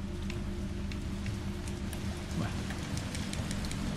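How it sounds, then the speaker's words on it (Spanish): Steady rain falls in the Resident Evil 3 video game, a dense, even hiss of drops on surfaces with a low rumbling bed underneath, continuous and moderately quiet throughout. "Vale, está lloviendo, no pasa nada."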